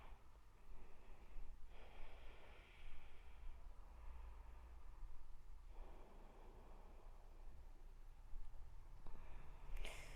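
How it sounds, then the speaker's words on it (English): Slow, audible breaths during a de-stress yoga flow, drawn in and let out in long, steady cycles close to the mic, with no talking. "Breathing."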